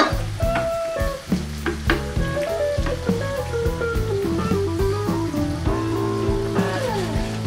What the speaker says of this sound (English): This has to be just sauteed, nice and cooked.